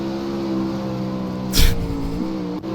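A dirt late model race car in iRacing holds full throttle, its engine a steady loud harmonic drone with a brief gritty burst of dirt spray or wall contact midway, followed by a quick dip in pitch.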